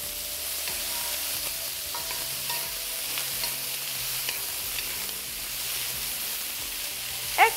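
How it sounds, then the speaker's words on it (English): Diced eggplant is stirred constantly in a pan over high heat, giving a close, steady sizzle with frequent spatula scrapes and no talking. "Make sure your heat is high and you're stirring it constantly."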